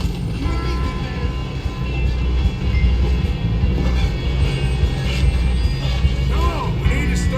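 Train running on rails in the video game Red Dead Redemption 2, a loud, steady rumble with clattering wheels and metallic creaks, close and continuous throughout.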